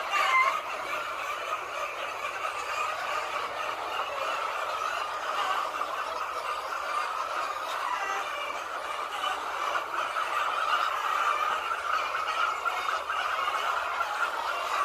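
Thousands of laying hens, about 5000 on each side of a poultry farm shed in Pakistan, keep up a dense, continuous chorus of clucks and squawks, loud and unbroken.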